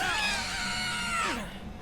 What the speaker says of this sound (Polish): Za każdym razem, gdy spojrzysz na zabójcę, krzyczysz.